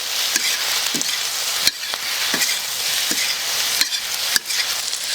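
Pork belly stir-frying in its own rendered fat for Chinese red-braised pork, giving a steady loud sizzle with occasional sharp clacks of a spatula, alone without talk.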